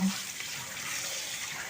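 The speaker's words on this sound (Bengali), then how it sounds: "আমগুলোকে প্রথমে পরিষ্কার করে ধুয়ে নেব" Raw mangoes, freshly picked for pickle-making, are rinsed under running water, a soft continuous splash and flow heard close but faintly, steady throughout.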